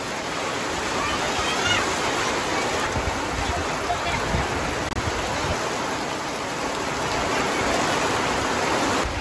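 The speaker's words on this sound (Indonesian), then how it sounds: "Aduh, anginnya sangat kencang" Heavy rain driven by strong gusting wind over a rice field, a dense, steady roar of rushing noise that stays loud and unbroken throughout with no clear pauses.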